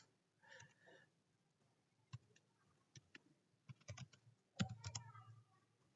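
Computer keyboard typing while C code for a simple calculator program is entered, with irregular bursts of key clicks separated by short pauses, close and fairly quiet.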